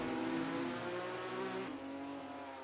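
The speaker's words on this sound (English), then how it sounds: "Rob throwing the Ferrari in there to turn 3" A Ferrari race car in a sim racing game at Sebring is thrown into turn 3, its loud, steady engine drone holding a high harmonic whine that shifts down midway as it brakes and turns through the corner.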